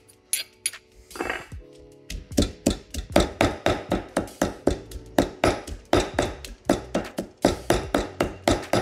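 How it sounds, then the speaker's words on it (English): Curry paste for a Thai sour orange curry pounded in a mortar and pestle, a steady run of close, sharp knocks and clinks repeating about twice a second, with no one talking. "It took about 5 minutes of pounding in our mortar and pestle."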